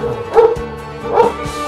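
A dog gives two short, close, loud barks about a second apart, yippy and slightly whining in tone, with nothing else around them.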